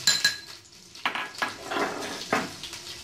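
A metal spoon clinks and scrapes a few times against a pan as coriander powder goes into a pumpkin sabzi, with short bright knocks spread over a few seconds and no voice.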